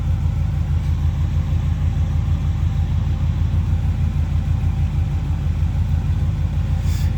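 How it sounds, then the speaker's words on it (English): A 1971 Chevrolet C10 pickup's engine idles after a cold start, a steady, loud low rumble that holds evenly throughout with no talking over it. "Well, that was about all the cold start I can get."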